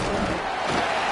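Football stadium crowd at a college game roars in a continuous loud wash of cheering and yelling just before a kickoff, filling the whole moment without a break.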